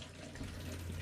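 Water runs steadily from an RV bathtub faucet, a continuous close splashing flow with no talking over it.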